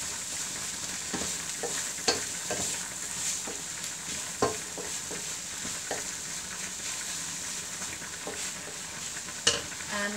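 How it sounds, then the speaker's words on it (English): Ham being stirred as it fries in a pan for a chicken, ham and mushroom carbonara, a steady close sizzle broken by sharp scraping clicks of the spoon against the pan, with no talking. "Give that a stir around. And I'm going to add my ham."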